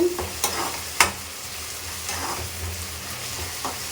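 Onions sizzle steadily in a hot pan while being sautéed for prawn paneer butter masala, with a spoon scraping and stirring every second or so, close by and without any talk.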